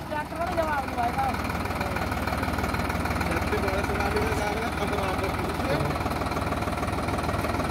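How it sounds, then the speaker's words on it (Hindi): A Sonalika DI-50 shuttle tractor engine pulls a laser leveler in the field, running a steady mid-to-low diesel thrum with a light knocking pulse, while someone talks over it. "ये दोस्तों यहाँ पे हमें लेजर लेवलर चलाता हुआ मिला।"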